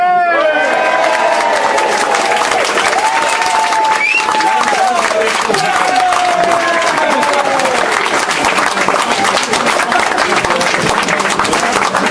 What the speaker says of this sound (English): If we can have a round of applause for the best man